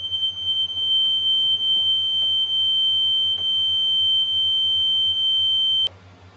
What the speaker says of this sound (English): Ah, fire alarm, let me pause it. It's just a test.